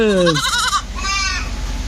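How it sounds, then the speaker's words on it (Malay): A goat bleats loudly nearby in a quavering call at Kemaman Zoo, Terengganu, then a second fainter bleat follows. "Sekarang kita berada di zoo Kemamangan Tengok kambing eh"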